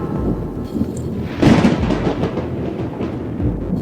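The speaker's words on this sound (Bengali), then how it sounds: "এ কি এত ঝড় বৃষ্টি আরম্ভ হলো" Rain pours steadily during a thunderstorm while a low rumble of thunder swells midway, loud and close, then fades back under the downpour.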